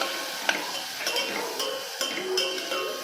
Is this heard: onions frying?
yes